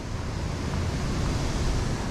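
Water from a waterfall in a San Francisco park rushes in a thick, continuous roar, loud and near, with a windy, surf-like wash and no speech over it.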